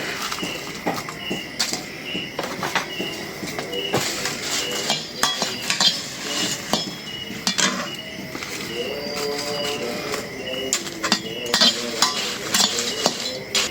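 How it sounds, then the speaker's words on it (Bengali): Dried chillies frying in mustard oil in a pan, stirred with a utensil that scrapes and clinks against the metal beneath a steady low sizzle, with no talking. "আমি বানাবো হলো শুকনো মরিচ তেল ভাইজে"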